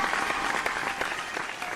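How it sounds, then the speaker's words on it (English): Audience applause at a singing competition semi-final, dense continuous clapping filling the hall at steady loudness for a brief moment. "And ladies and gentlemen, round of applause to Mr. John Wood as he exits the stage."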